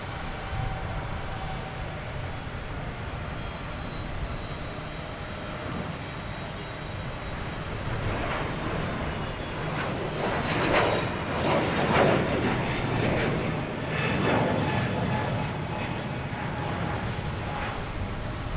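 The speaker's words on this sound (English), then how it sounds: "We have a Delta heading to Las Vegas, flight 373, an A321 Neo, taking off on 22 right." A Delta Airbus A321neo jet taking off from runway 22 right at Boston Logan, a continuous engine roar that builds and peaks midway before easing, heard from a distance without talk.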